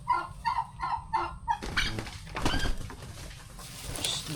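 A turkey gobbling and calling while it chases someone, several rapid rhythmic gobbles at first, followed by scuffling and noisy movement nearby.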